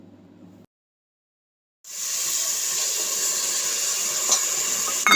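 Peas and carrots dropped into a pan of fried tomato set off a steady, bright sizzle and hiss after a brief silence, continuing evenly and close.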